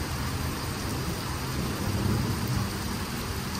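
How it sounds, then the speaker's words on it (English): Steady rain falls during a thunderstorm in eastern Kentucky, a constant broadband hiss with a low rumbling undertone that swells slightly midway, with no talk. "The rain's letting up."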